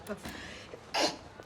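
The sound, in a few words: sneeze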